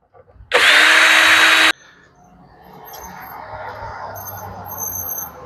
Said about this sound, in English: we pulled all the star screws off